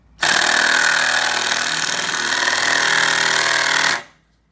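A battery power drill runs steadily for about four seconds while building square landscape timber garden beds, loud and close, with a dense whirring buzz that starts abruptly and cuts off cleanly.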